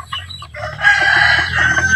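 Rhode Island and upgraded native chickens crow and cluck nearby, a rooster's drawn-out crow rising over scattered clucking in a farmyard.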